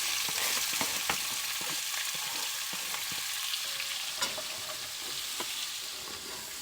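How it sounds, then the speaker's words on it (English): Garlic and onions fry in a pan at a winter camp kitchen inside a truck camper, a steady loud sizzle with scattered pops and crackles and stirring scrapes, no voices. "now into the pan, we're gonna go with our garlic and our onions"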